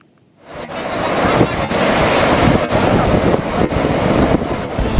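High surf breaks and rolls at Lumpue Beach in Parepare, South Sulawesi, heard as a loud, continuous roar of waves with heavy wind buffeting the microphone throughout and no voices.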